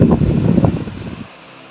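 Electric fan on its lowest speed setting blowing air, a soft close breathy whoosh that fades to near quiet after about a second, with no voices.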